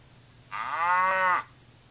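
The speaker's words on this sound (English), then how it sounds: "It's the cow." A cow gives a single clear, sustained moo of about one second, played as a farm animal sound effect in a speech therapy app, loud and alone against quiet background hiss.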